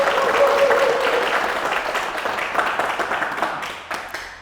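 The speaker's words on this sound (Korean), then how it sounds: "네, 박수, 많은 박수 부탁드립니다." Audience applause at a live candidates' election debate event, a burst of many hands clapping that gradually thins and fades over several seconds, with a brief tone early on.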